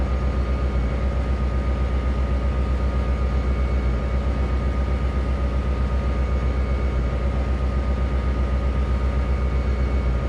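Heavy freight train with several grouped diesel locomotives pushing an overloaded consist in the Trainz 2022 rail simulator, a steady loud low engine drone and rumble that holds throughout with no talk.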